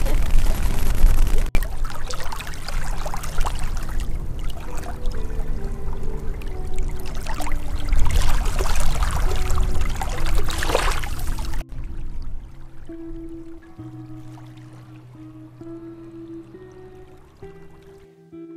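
A spring waterfall pours with a loud, steady broadband rush for about eleven seconds, then the sound cuts off abruptly to quieter, soft tonal sounds.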